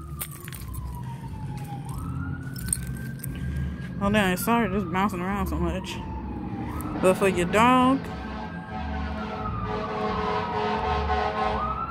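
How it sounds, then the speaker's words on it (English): Fire truck siren wailing outdoors during a walk, its sweeping tone rising and falling steadily across the whole stretch while people chat over it, with bursts of fast yelping modulation in the middle as it passes. "Yeah, that's a fire truck."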